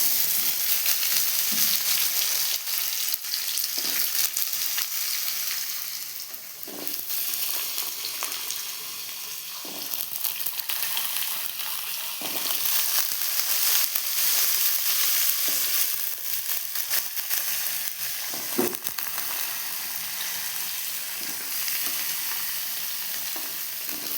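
Papaya and potato pieces hit hot oil already seasoned with cumin and bay leaf for a home-style vegetarian curry, making a loud, steady sizzle that runs the whole time, broken by occasional scraping stirs.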